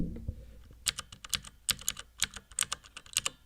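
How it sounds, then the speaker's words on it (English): Mechanical keyboard keys clack in quick, irregular bursts, close and crisp, over a quiet background with no talking. "bought a mechanical keyboard, because I type a lot."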